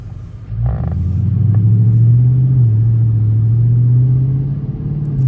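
A Dodge Charger R/T engine drones steadily from inside the car while cruising through Las Vegas traffic, a loud, smooth low rumble that rises slightly as it pulls away and then holds an even tone.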